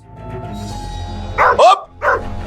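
A dog barks close by, two or three short, sharp barks in quick succession after a moment of low background noise.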